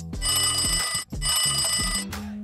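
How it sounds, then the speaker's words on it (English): A telephone rings for an incoming call-in caller: two long, loud electronic trills separated by a short gap, bright and close, with no talk over them. "And just like that, we have our first caller, Cody Mecham"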